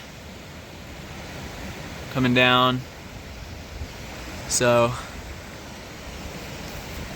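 A creek flows alongside a mountain trail in Grand Teton National Park, making a steady broadband rush that runs the whole time, with two short bursts of talk over it.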